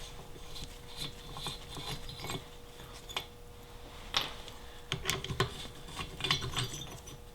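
A ratchet works loose the head bolts on a Porsche 912 engine, giving quiet, irregular clicking and metallic rattles close by against a low steady hum, with no talking.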